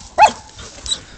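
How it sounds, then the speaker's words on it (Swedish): A German hunting terrier barks underground in a fox den, a single muffled, distant yelp heard alone. "Tysk terrier nere och skäller."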